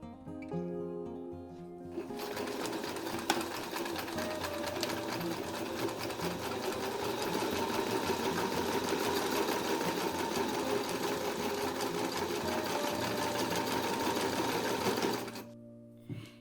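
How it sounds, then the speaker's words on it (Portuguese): A sewing machine runs steadily for about thirteen seconds, stitching a seam on a handmade handbag, its loud continuous whir starting and stopping cleanly with no talk over it. "Eu vou pra máquina, vou passar essa costura e volto aqui."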